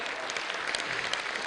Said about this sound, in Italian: che meritano un grande applauso.